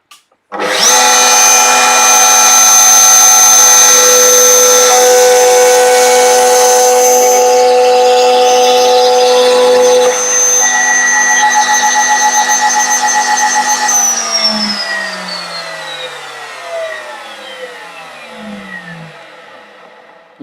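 A router cutting through half the thickness of a piece of timber, a loud steady high-pitched whine with strong tonal bands held for about fourteen seconds, then spinning down with falling pitch as the motor winds off.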